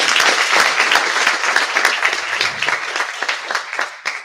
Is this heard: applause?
yes